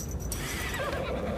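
Horse neighing in a Witcher audio drama, a single loud, close whinny rising and falling over a dense background of ambience and music.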